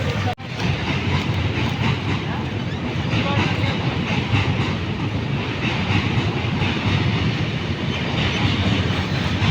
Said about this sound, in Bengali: আর এদিকে ট্রেন।